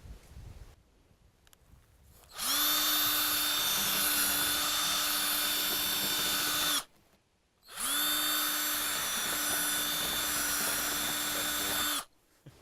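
A high-pitched power drill whines loudly in two long bursts of about four seconds each, drilling out a hole to 1/2 inch for a carriage bolt on an animal feeder's locking mechanism, separated by a brief pause, with quiet background before the first.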